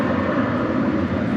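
A jet airplane rolls down the runway for takeoff at DFW Airport at night, a loud continuous engine roar holding steady throughout without speech.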